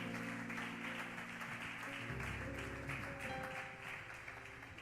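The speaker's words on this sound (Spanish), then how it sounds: "le damos un aplauso al Señor" A church congregation claps during an evangelical service, a moderate wash of applause heard over sustained musical tones from a keyboard or organ, fairly faint and steady.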